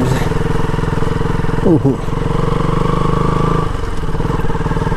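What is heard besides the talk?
KTM RC 200 motorcycle accelerating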